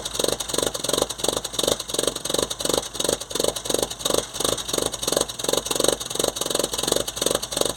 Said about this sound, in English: it still sounds a bit like a pre-war era engine